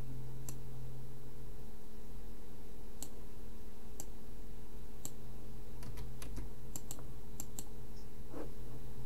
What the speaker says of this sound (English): I'm so slow at typing since I'm typing.